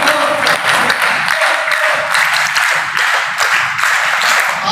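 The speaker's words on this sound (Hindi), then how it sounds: "तालियां।" An audience at a youth group gathering claps and applauds, a dense, even patter of many hands close by that carries on without pause.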